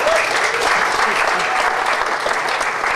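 Steady, dense applause from a welcome-reception audience at a Landcare conference in Queensland, thanking the event sponsors. The clapping runs full and even throughout, loud and close, with no break.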